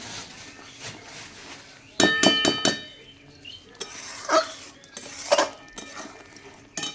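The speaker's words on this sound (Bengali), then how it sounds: "এখানে মাছের মশলা কষাচ্ছি" Fish curry spice paste sautéed in a pan with a metal spoon, giving a quick cluster of scraping clinks followed by scattered stirring knocks against the pan, close and fairly quiet.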